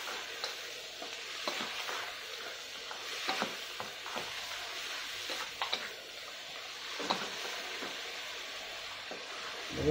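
Pork belly stir-fried with lemongrass sizzles steadily in a pan, with repeated scraping and stirring strokes of a utensil breaking through the constant frying hiss.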